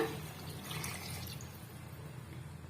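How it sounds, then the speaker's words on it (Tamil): About a cup of water is poured into chicken biryani in a pressure cooker, giving a short, splashy gush that starts loud and settles into a softer trickle, with no voices. "இப்போ வந்து நான் ஒரு கப் அளவுக்கு நான் வந்து தண்ணி சேர்த்துக்கிறேங்க"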